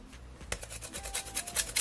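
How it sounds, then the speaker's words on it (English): Lime zest being grated, a dry rhythmic rasping of the fruit's skin against a grater in a home kitchen, with repeated close strokes and no talking. "I'm gonna grate some of my lime,"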